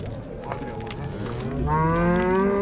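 A male calf moos in a long, drawn-out call that rises and swells louder toward the end, with faint background noise and no talking.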